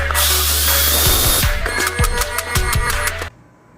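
A power drill with a small bit whirs loudly on an S550 Mustang, with repeated brief bursts and clicks of the bit biting in before the motor cuts off abruptly.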